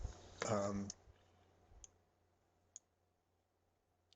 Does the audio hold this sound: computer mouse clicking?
yes